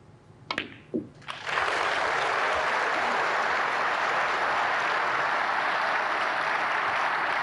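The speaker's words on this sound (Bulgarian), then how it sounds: "Публиката аплодира и окръжава Джак." A snooker crowd bursts into sustained applause for Jack Lisowski during a match against Judd Trump, following a few sharp knocks at the start, then a dense, steady clapping that holds to the end.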